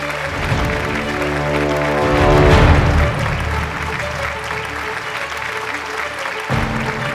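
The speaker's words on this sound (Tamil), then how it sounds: "ஒரு அரங்கம் நிறைந்த கைத்தட்டலோடு இந்த மேடைக்கு வருக வரவேற்கிறோம்" A packed awards-ceremony hall applauds as guests are welcomed onto the stage. The clapping is dense and continuous and swells briefly in the middle, with a musical tone ringing underneath.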